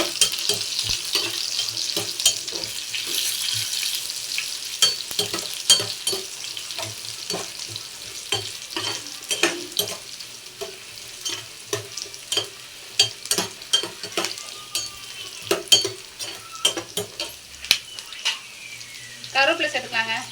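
Dried red chillies frying in hot oil for ginger thokku, a steady sizzle with scraping stirs of a spoon against the pan, continuous and close throughout.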